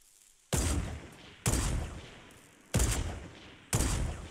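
Gunfire in the Fortnite Battle Royale video game comes as four loud, sharp bursts, spaced about a second apart, each decaying quickly in an otherwise quiet scene.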